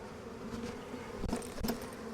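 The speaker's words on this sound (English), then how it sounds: "Bees go flying." Bees pour out of a hive box shaken during winter preparation, a steady close buzzing swarm that swells in two brief bursts as the frames are jolted, with no voices.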